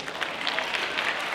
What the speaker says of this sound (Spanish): Excelente, un aplauso para ustedes.